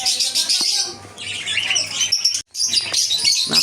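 A group of colorful lovebirds kept for sale chirps and squawks constantly, a loud, busy chatter of shrill calls with a brief gap midway.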